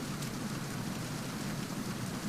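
Steady, dense rain in the video game Metal Gear Solid 2, a constant close hiss of drops falling on surfaces with no pauses.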